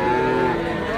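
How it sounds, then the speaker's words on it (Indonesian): Brief, close lowing from Pegon cattle at a livestock market, one sustained moo filling the short moment. "ini teman-teman ada sapi pegon"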